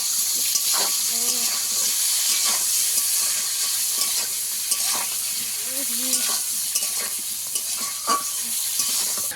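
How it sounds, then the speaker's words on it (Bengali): Eggplant frying in hot oil gives a steady close sizzle and hiss throughout, broken by occasional clinks and stirring scrapes of a utensil in the pan. "তেলের মধ্যেই বেগুনটা ভেজে নেব।"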